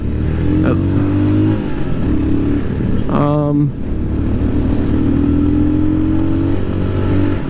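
Royal Enfield Scram 411 motorcycle ridden on the road, its single-cylinder engine holding a steady drone with a brief rev change partway through, close and loud with wind rush beneath the rider talking.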